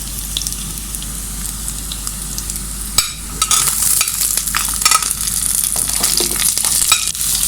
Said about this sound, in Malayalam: ഇതൊന്ന് നന്നായി വഴലട്ടെ